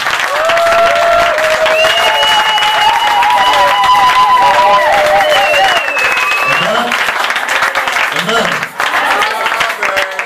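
A French-speaking church congregation cheers and applauds in praise of Jesus during a worship service. Loud, sustained clapping and crowd noise fill the whole stretch, with sung or called-out voices rising over it.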